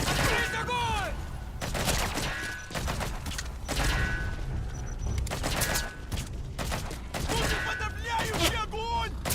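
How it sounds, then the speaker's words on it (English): Bursts of gunfire in the Metal Gear Solid V stealth game, several volleys spread across the scene with sharp shots mixed among voices and game effects, moderately loud throughout. "Hold still, I'm trying to shoot you."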